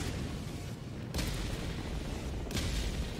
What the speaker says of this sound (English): It's a walking barrage.